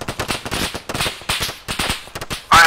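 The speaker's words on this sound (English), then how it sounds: "I think we're getting hit by GMG." Rapid grenade machine gun rounds striking nearby in ArmA 3, a fast irregular series of sharp cracking impacts with no talking.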